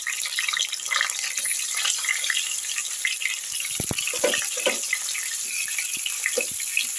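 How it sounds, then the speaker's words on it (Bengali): Rohu fish pieces fry in hot oil with a dense, steady crackling sizzle and sharp spits, loud and close throughout with no talking. "এবার আমি আস্তে আস্তে করে মাছগুলোকে ছেড়ে দিচ্ছি তেলের মধ্যে।"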